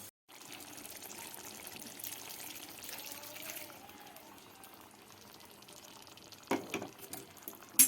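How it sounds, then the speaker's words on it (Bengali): Hot water poured from a bowl into a pan of simmering rohu fish kalia, a soft continuous pouring and bubbling wash, fairly faint, ending with a couple of louder clunks. "এবার আমি এই জলটা দিয়ে দেবো"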